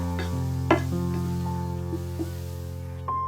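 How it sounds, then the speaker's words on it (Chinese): Small pan-fried potatoes stirred in a hot pan with black sesame and chopped scallions, giving a few soft scraping clinks over a steady low background hum, close and fairly quiet. "利用锅的余温，在锅里把它们搅拌均匀"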